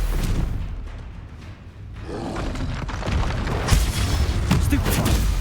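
Spell blasts and impacts from the Confringo and Stupefy attacks in the Hogwarts Legacy video game, a dense run of booming, crackling bursts that builds in intensity over continuous combat noise, with a player shouting between casts.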